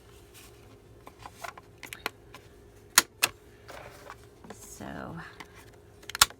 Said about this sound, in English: I am going to go ahead and round the corners.